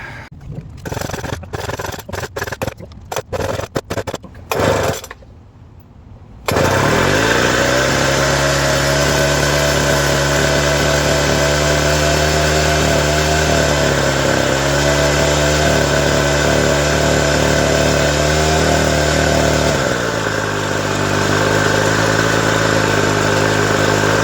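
A Ryobi RY09055A leaf blower with a freshly rebuilt, brand-new carburetor sputters through a few start pulls, then catches and runs with a loud, steady small two-stroke drone that shifts pitch slightly near the end.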